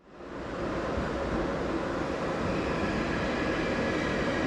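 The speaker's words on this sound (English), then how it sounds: "Here's our train. It has 2 sets of Renfe class S100s" Renfe class S100 AVE high-speed train, two coupled sets, arriving, a broad rushing roar that swells in the first half second and then holds steady and loud like surf.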